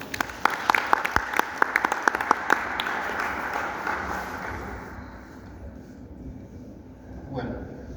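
Applause for a lecturer at an academic talk on the Gran Pajatén road network, loud sharp claps at first that thin out and fade over several seconds, with a voice briefly heard near the end.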